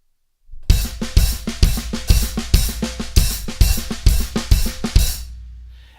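Drum kit fill played with clipped, shortened hi-hat notes between punchy drum hits, roughly a dozen steady, even strokes over several seconds, close and loud, ending in a brief decaying ring.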